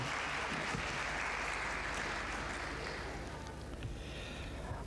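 Seminar audience applause fills the room steadily, a dense wash of many hands clapping that fades only slightly toward the end.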